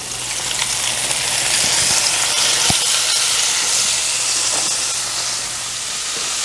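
Meat browning in a pan with only a little oil, giving a steady, fairly loud sizzle and hiss throughout with a few small pops and no talking.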